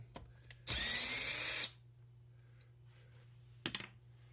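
A power driver whirs for about one second, close by, as it backs a screw out of an Echo CS-310 chainsaw, followed by quiet handling clicks and a steady low hum in an otherwise quiet space.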